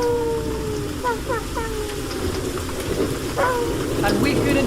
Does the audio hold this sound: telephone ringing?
no